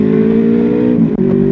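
A 2012 Honda Crossrunner 800 motorcycle engine holds a loud, steady rev close by, with a brief dip in pitch near the end before it settles again.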